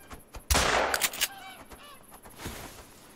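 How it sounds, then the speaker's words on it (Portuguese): Gunshots fired at birds in the hunting game theHunter: Call of the Wild: a loud sharp report followed by a few quicker cracks, then softer shots trailing off, with faint bird calls between. "Já vou começar a atirar que é mais negócio."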